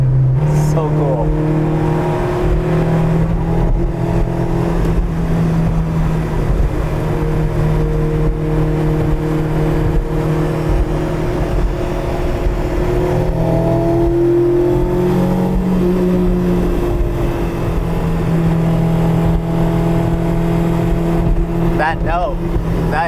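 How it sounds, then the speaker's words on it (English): A Honda S800 driving across the Golden Gate Bridge, its small engine's exhaust buzzing loud and close with a steady, rising and falling drone as it revs through gears, while people talk over it. "That exhaust note is nice."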